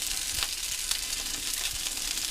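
Sausages fry in a pan alongside pancakes, giving a dense, even sizzle close by with a couple of faint low knocks and no speech.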